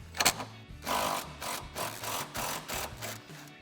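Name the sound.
impact wrench removing subframe mount bolt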